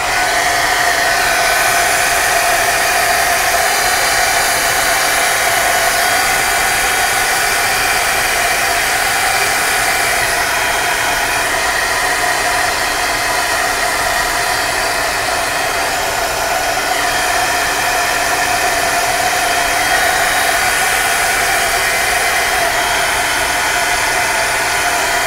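A hair dryer blows steadily on paint across a mixed media canvas, a constant close whirring hum running unbroken for the whole stretch with no talking.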